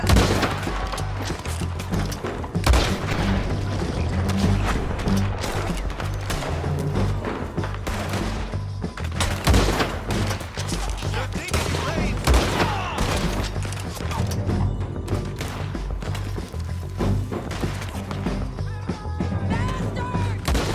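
Rapid automatic gunfire in the Red Dead Redemption 2 video game, dense bursts of shots rattling continuously for about twenty seconds with loud thuds and booms mixed in, and a voice occasionally talking over the action.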